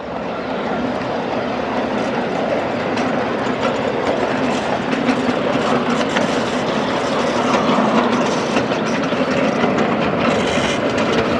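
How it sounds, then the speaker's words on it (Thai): An electric train runs through green rice fields in Thailand. It gives a loud, continuous rumble with rhythmic clickety-clack under steady wind and rolling noise, heard from on board without a break. "มากับรถไฟมากับรถไฟของเรานะครับ"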